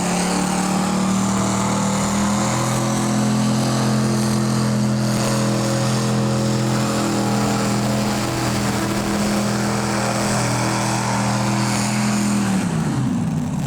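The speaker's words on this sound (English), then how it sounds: "Great pull to start things up with the 2 inline 440 Chrysler engines, alcohol injected engines." The Sodbuster pulling tractor, powered by twin inline alcohol-injected 440 Chrysler engines, roars loud and sustained through a competition pull, a dense steady engine drone that shifts pitch near the end.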